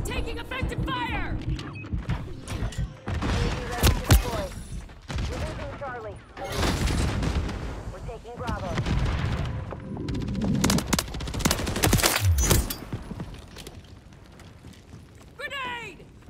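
Gunfire in the Call of Duty MW3 video game: repeated loud bursts and single shots crackle through the whole stretch, mixed with explosions and tinny radio-style callouts from game characters speaking throughout.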